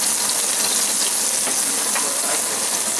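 Ground cumin toasting in a little oil in a hot pan, a loud, steady close sizzle and hiss that continues without a break.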